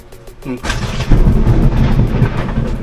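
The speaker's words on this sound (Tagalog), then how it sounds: "Lakas ng kulog." Loud, close thunder cracks and then rolls into a long, heavy rumble during a rainstorm, drowning out the faint voices that come before it.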